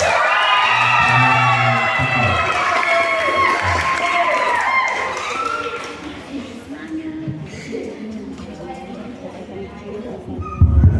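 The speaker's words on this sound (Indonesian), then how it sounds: "berikan tepuk tangan dulu bagi mereka" Crowd of children cheering, shouting and clapping at a church Easter Bible-opening speed contest, loud and sustained at first, then fading into scattered voices and chatter.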